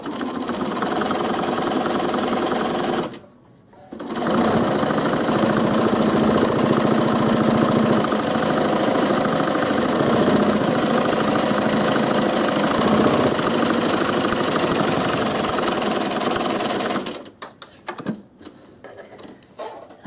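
A sewing machine runs steadily and loudly while stitching binding onto a quilt, pausing briefly near the start and stopping toward the end with a few short bursts.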